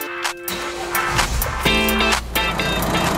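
A car engine restarted after an air-conditioning refrigerant recharge, a loud nearby crank that catches into a steady idle hum, with mechanical clunks and no voices.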